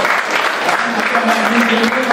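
Steady applause from a crowd fills the whole moment, dense and loud, with a faint voice underneath.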